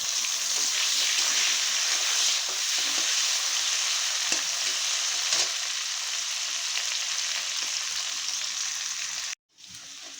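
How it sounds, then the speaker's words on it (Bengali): Potatoes fry in hot oil with dried red chilli and bay leaf for a pabda fish curry, giving a steady, loud broadband sizzle with occasional stirring scrapes, broken by a brief dropout near the end. "আলু আমার ভাজা হয়ে গেছে"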